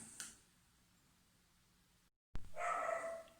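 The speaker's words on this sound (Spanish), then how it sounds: "al son de este ladrido de perro nocturno" A dog barks at night, one sharp bark near the start and then a louder burst after a brief gap, carrying over a quiet, hissy outdoor background.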